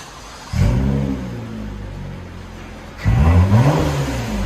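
A 2022 Lexus ES 350 with a 3.5L V6 and a deleted muffler revs up twice from a steady idle, each blip a loud, raspy swell close by with no talking.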